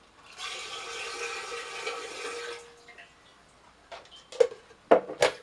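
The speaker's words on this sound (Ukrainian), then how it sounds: "Я виливаю дану воду у чистий скляний бутель." Water pours steadily into a glass bottle for a couple of seconds, then gives way to a few sharp glassy clinks and splashes.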